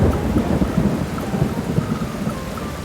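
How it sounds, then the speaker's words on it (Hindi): Heavy rain pours steadily with low thunder rumbling beneath it, a dense continuous wash of sound throughout with no voices. "एक दिन जोरों से बारिश होने लगी"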